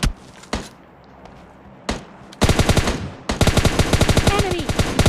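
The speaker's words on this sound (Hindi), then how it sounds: "और अभी फायर भी हो रहा है पीछे से।" Video game gunfire from behind, in a solo-versus-squad battle match: a few isolated shots, then loud rapid automatic bursts rattling close, with a faint voice briefly underneath.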